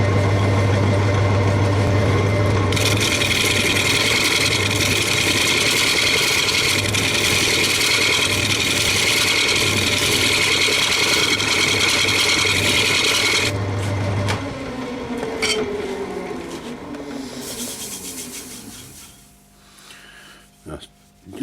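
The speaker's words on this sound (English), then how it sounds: "So I'm just going to carry on with the scraper and get rid of these marks." A wood lathe spinning a wenge platter while a scraper works the surface, a loud steady motor hum with raspy cutting noise, then winding down and fading over the last seconds.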